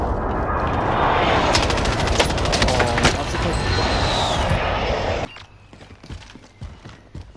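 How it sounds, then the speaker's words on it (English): An enemy precision airstrike in a video game hits with a dense barrage of rapid explosive blasts and gunfire-like cracks, loud and sustained for about five seconds before cutting to quieter scattered game sounds. "Enemy precision airstrike. Take cover."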